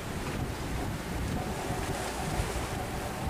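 A large fishing trawler heads out to sea, its engine rumble blended into steady roaring wind and water noise that buffets the microphone throughout.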